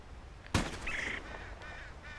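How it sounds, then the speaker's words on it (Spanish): A red-bellied woodpecker calls in Red Dead Redemption 2: one sharp burst, then a short rolling call and a few fainter repeated notes over quiet outdoor ambience. "Ahí tenemos el pájaro carpintero."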